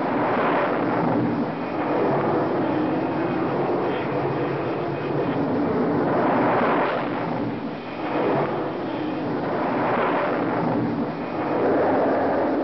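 Jet aircraft launching from an aircraft carrier deck, loud continuous roaring that surges and fades in repeated waves as each plane goes, heavy and rumbling throughout.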